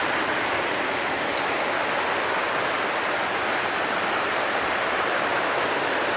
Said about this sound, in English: This is a pretty intense thunderstorm